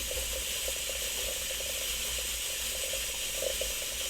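A retro Teasmade machine brewing and pouring tea gives a steady, close mechanical whir with faint watery trickling and light ticking, continuous and even throughout.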